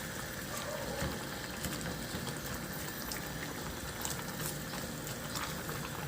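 Mustard greens soup with green chili boils in a pot, a dense, even, rain-like bubbling hiss that stays steady and close throughout.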